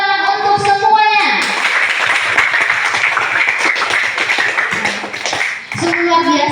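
Classroom applause at a junior high school after students' gallery-learning presentations: dense, steady clapping from many hands fills most of the moment, with a voice heard at the start and end.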